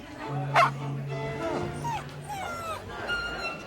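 A dog in a dog food commercial gives short yips and whimpering barks, close and fairly clear, scattered over a background of tonal music-like sounds.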